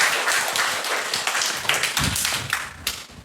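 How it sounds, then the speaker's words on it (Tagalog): A church congregation gives a brief burst of applause, dense close hand claps with sharper individual slaps and low thumps, fading after a few seconds. "Palakpak po sa Panginoon."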